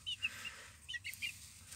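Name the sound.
hens and young roosters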